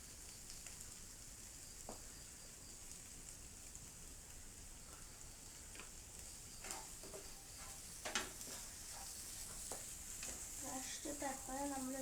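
Noodles and crushed pepper are stirred in a hot pan, giving a soft, continuous sizzle with light scraping clicks that pick up toward the end. No one speaks.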